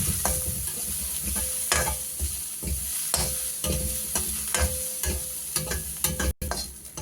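Onions sauté in a pan for North Madras street-style kothu parotta, a steady sizzle with repeated spatula scrapes and stirring strokes, close and fairly loud, with no voices.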